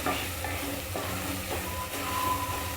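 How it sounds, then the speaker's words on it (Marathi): Bitter gourd seasoned with turmeric and coriander powder is stirred in a hot pan, a close, steady sizzle broken by soft scraping strokes of a spoon, with no talking. "हे आपल्याला चांगलं हलवून घ्यायचं आहे"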